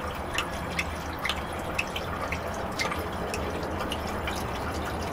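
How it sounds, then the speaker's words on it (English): Water drips and patters steadily like a small rain shower during a Bombay bottle test, quiet scattered droplets over a soft continuous trickle with no talking. "It's like a little, little rain shower thing."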